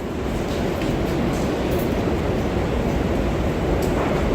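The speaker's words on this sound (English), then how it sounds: "As you see, one train leave, one train arrive" Continuous steady rumble of NYC subway trains in a station on the Lexington Avenue line near Grand Central, one departing and another arriving, loud and unbroken throughout with no talk.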